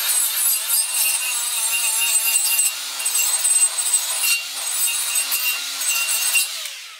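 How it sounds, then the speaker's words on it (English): Old gasket material is scraped off a vintage Honda Z50/CT70/SL70/ATC70 engine case in continuous, rhythmic rasping strokes, close and fairly loud, with no talking. "Doing a good job of removing the stubborn areas of the gasket."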